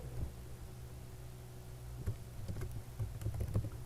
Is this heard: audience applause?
no